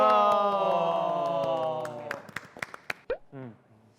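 A small group claps briefly for a bowling team introduction at a bowling alley. A few scattered hand claps come near the end, after sustained voices.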